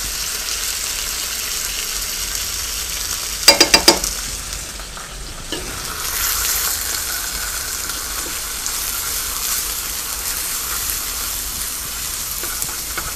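Chicken sizzles steadily in butter in a pan, with garlic added and a brief cluster of spoon or utensil clinks partway through, the frying hiss continuous and close.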